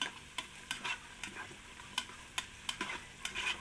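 Wooden or plastic spoon stirring ingredients sautéing in the pot of a Noxxa pressure cooker, repeated scraping knocks in an uneven rhythm over a soft continuous sizzle.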